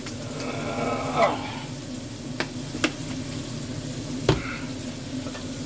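Chili cheese fries mixture with a squirt of ketchup being stirred in a pan, a steady low sizzle with a few soft scrapes and clicks of the utensil, close and alone.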